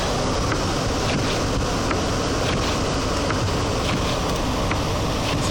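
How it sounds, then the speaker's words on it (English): High winds roar steadily during a March spring blizzard in Atlantic Canada, a loud, dense rush buffeting the microphone without letup, and no one speaks. "If you can hear it in the wind."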